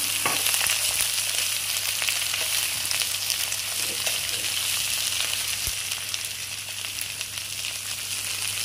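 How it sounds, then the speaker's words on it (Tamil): Chopped onions, green chillies, dried red chillies and curry leaves sautéing for a long beans curry, a loud, continuous close sizzle and crackle of hot oil throughout. "இதோட நாங்கள் கட் பண்ணி வச்சுருக்கிற வெங்காயத்தையும் பச்சை மிளகாயையும் சேர்த்துக்கிறோம்"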